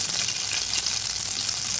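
Red chillies fry in hot oil for a tadka tempering for chicken nihari, a dense continuous sizzle and crackle heard close up and alone.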